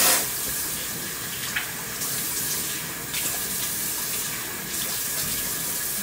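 Tap water pouring steadily into a sink during morning face washing, a constant close rushing hiss that lasts the whole time with no talking.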